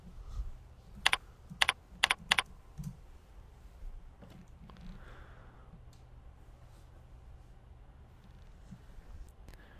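Someone types a phone number on a computer keyboard: four sharp, quick key clicks in a burst, then a couple of fainter taps over a quiet room hum.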